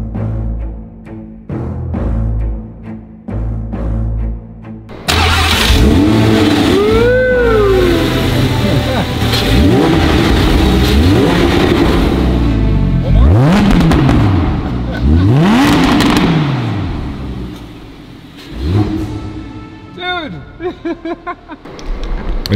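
A 2018 Audi R8 sports car engine revs hard, rising and falling in repeated sharp bursts and sustained roars up close, after a few seconds of lower rumbling idle at the start.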